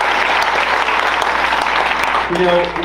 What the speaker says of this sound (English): Give yourselves a round of applause, please, for participating in our